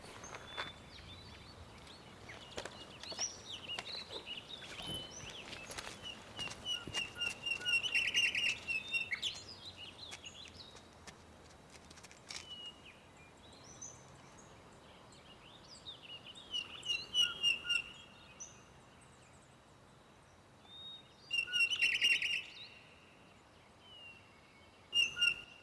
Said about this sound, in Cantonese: 有雀仔叫啊！